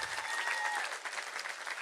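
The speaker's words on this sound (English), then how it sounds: "Give them a big round of applause" A crowd at a preparatory academy graduation ceremony gives brief, dense, steady applause at moderate volume.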